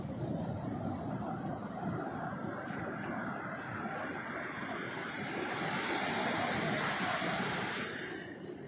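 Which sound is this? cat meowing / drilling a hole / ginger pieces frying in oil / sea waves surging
sea waves surging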